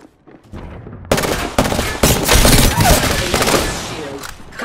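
Rapid bursts of automatic gunfire in the video game Apex Legends, loud and close, with several sharp volleys stacking up over a few seconds after a quieter start.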